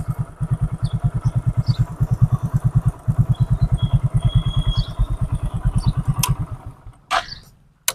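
Hero Honda motorcycle with self-start, its engine running in a loud, rapid, steady chugging idle close by for several seconds, then cutting off and leaving clattering and mechanical clicks at the end, with no speech.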